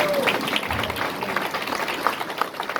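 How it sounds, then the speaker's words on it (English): Audience applause welcoming Mayor Victoria Woodard as she arrives at an indoor Kinsey Collection book event, a steady wash of clapping with scattered crowd noise under it, fairly close and continuous throughout. "Let's give her a big round of applause."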